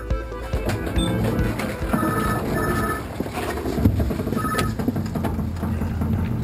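A telephone rings inside a phone box, repeated bursts of electronic ringing over a busy outdoor background with other noise around, moderately loud and steady.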